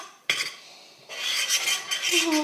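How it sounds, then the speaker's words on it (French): A spoon scrapes and clinks against a bowl as slime made with glue, detergent, shaving foam and colouring is stirred: a sharp knock, then steady wet swirling and scraping, close and fairly loud. "on mélange bien maintenant"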